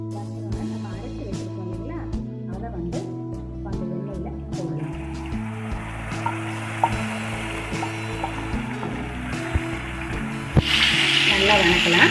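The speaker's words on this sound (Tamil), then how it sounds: "நல்லா வணக்கலாம்." Whole cinnamon, cloves and cardamom sautéing in hot oil in a pan for a Tamil-style prawn masala, a steady close sizzle with occasional stirring taps, under a continuous talking voice and background music, growing louder near the end.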